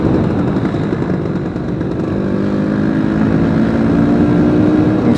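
A 1980 Vespa P200E 200cc two-stroke scooter cruising in fourth gear on small roads, its engine droning loud and steady with a buzzing hum and wind rush throughout, no talking.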